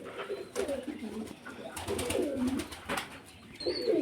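Pet fancy pigeons coo in low, throaty, repeated calls, close by and overlapping in a steady rhythm over a faint background hiss.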